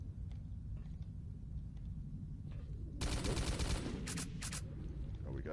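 Bursts of automatic gunfire from S.T.A.L.K.E.R.: Call of Pripyat crackle over a steady low rumble, starting midway with a dense rattling volley followed by two shorter loud bursts, fairly close.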